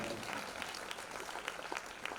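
Audience clapping at a Jain religious gathering in Itarsi, faint and distant, with scattered claps continuing unevenly throughout.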